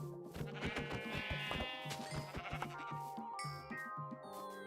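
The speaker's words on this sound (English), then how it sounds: "Ooh, sheep." Sheep in the video game Minecraft bleat in several repeated wavering calls, close and clear over a soft game backdrop.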